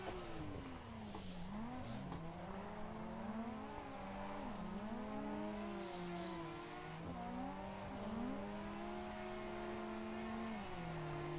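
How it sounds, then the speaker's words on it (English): A car drifting along a Japanese mountain road, engine revving and falling in sweeping pitch bends with tire squeal bursts, steady and fairly loud throughout, with no talk. "I think he was drifting with holding the brake."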